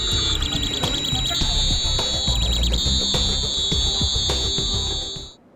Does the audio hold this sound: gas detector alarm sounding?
yes